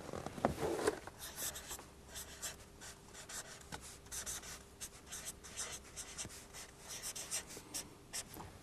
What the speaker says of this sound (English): Let me write this formula down again.